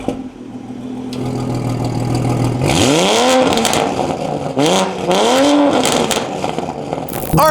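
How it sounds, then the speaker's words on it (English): A Ferrari V8 engine revs repeatedly from a steady idle, with three sharp rising throttle blips, loud and close, with no talking. "the sound that V8 makes"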